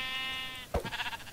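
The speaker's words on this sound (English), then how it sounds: "Die, sheep." Sheep bleating in the video game Minecraft, one loud, harmonic bleat lasting about half a second, followed by short thumps and a brief clatter of game effects.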